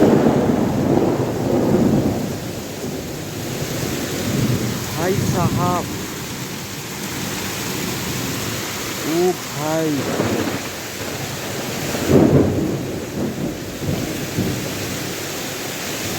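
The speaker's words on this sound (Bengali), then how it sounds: "কত জোরে বৃষ্টি হয়েছে গাইস" Heavy rain pours steadily outdoors near a pond, with low thunder rumbles rolling underneath, while people call out and talk briefly over the downpour.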